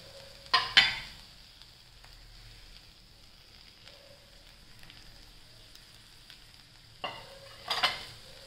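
Tomatoes are stirred into a squid roast masala in a pan. Quiet frying runs underneath, and two bursts of scraping stir sounds come near the start and again near the end.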